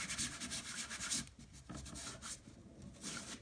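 Repeated rubbing of a very sticky chalk transfer to fuzz it up, a dry scratchy scrubbing in quick back-and-forth strokes, fairly close and steady with a short pause midway.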